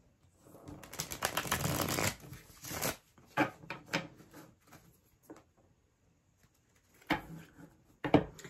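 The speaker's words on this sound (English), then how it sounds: "last shuffle here." Tarot cards are shuffled close by in several quick riffling bursts, a long rustling run at first and then shorter flicks and taps with pauses between them.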